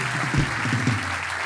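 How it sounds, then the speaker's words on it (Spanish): Audience applause for Yeison Jiménez at a live talk show, a dense burst of clapping from the crowd filling the moment, steady and fairly loud throughout. "Fuerte el aplauso a Jason Jiménez"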